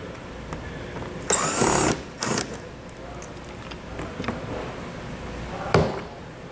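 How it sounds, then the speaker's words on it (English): A T15 Torx driver removing screws that hold a fender liner to the bottom of the fascia on a 2021 Buick Encore, with short whirring bursts from the driver, faint tool clicks and light rattles close by. "We'll then remove the Torx screws located here, attaching our fender liner to the bottom of the fascia. We're going to use a T15 Torx to do so."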